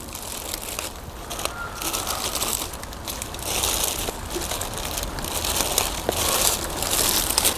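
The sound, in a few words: plastic bag crinkling over plant pot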